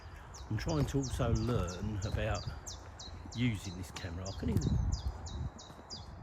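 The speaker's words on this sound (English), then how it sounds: "hear a bird tweeting up there" Repeated high bird tweets chirp steadily in the background while someone talks close up over them, outdoors at Queendown Warren.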